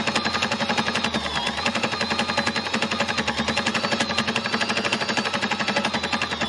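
An embellisher machine hammers steadily through fabric as it needle-felts, a fast, even mechanical chatter with a constant motor hum, close and continuous throughout.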